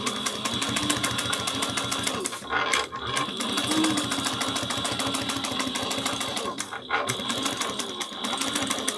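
A sewing machine top stitches a fabric clutch wallet at an eighth of an inch, a loud rapid needle rattle running steadily with two brief pauses.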